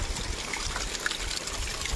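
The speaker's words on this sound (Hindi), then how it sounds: "ये पहाड़ों के चट्टानों से गिरता हुआ पानी का आवाज़" Water trickles and splashes down rocky mountain slopes at Bhaskargad fort, a steady, close, babbling flow that continues without a break over two seconds, with no voices.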